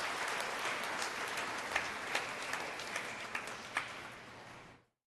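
A church congregation claps loudly in sustained applause during a homily, a dense steady wash with a few sharper claps standing out before it cuts off near the end.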